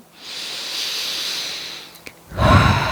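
A slow, deep breath during a yoga stretch, a long airy hissing exhale close to the microphone, then a short pause and the start of another breath.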